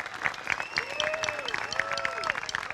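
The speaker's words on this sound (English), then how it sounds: "I would like for everybody to give Bob and James a round of applause for the work that they've done" Audience applause at an outdoor restoration ceremony for a soldiers' memorial statue, steady clapping throughout with a few voices over it.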